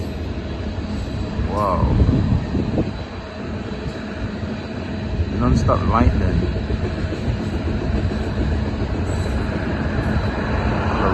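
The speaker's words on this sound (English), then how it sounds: "So, how long is this train?" A long train rolling past on the tracks, a continuous loud low rumble with occasional wheel squeal, heard under excited talking from nearby onlookers.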